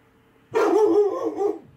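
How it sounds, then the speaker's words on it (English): A single loud, close dog bark, a sustained harsh yowl-like bark lasting about a second after brief silence, with no talk over it. "My dog's going crazy."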